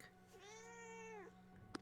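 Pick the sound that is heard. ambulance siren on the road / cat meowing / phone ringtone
cat meowing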